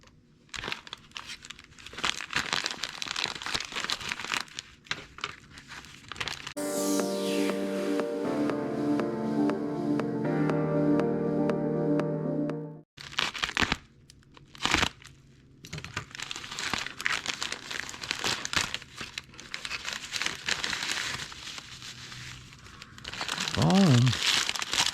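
Plastic and paper packaging for an Aurora AFX G Plus Shadow slot car crinkles and tears close up in steady bursts, with a tonal hum through the middle and a brief voice near the end.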